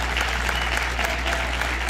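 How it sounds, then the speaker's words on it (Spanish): Steady, dense applause from an audience at a music awards ceremony, continuous and fairly loud over a low background hum, with no distinct pauses. "Demos un aplauso ahí a la calle."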